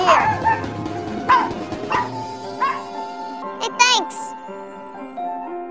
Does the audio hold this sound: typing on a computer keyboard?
no